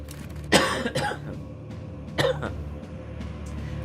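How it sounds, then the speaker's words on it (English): A person coughs twice, with sharp bursts about two seconds apart, the first a double cough, close to the microphone over a quiet background hum. "I hate this cough, dude."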